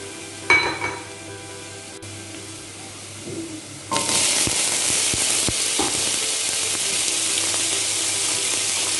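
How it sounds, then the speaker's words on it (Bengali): Vegetables start sizzling loudly in a hot pan after a few quiet seconds, with a steady crackling hiss and occasional stirring knocks. "এখন এখানে আমি স্বাদ অনুযায়ী লবণ দিয়ে এগুলোকে একটু ভেজে নেব।"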